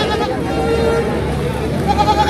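Goats bleat amid the crowd at a goat market in Washim, short calls rising over nearby voices and steady market chatter.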